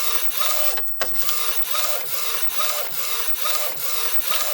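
A Procolored DTF printer runs a print job with rhythmic back-and-forth passes of the print head, each sweep a scraping whir repeating roughly every half second, close by and with no speech.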